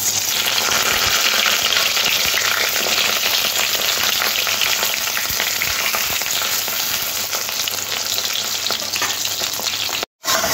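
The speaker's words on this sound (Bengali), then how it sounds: "এবার তেলটা গরম হয়ে গেলে এখানে আমি বেগুনের টুকরোগুলো একটু ভেজে নেব।" Eggplant pieces fry in hot oil in a wok, a loud, continuous crackling sizzle heard close up with no voices, cut by a brief silent gap near the end.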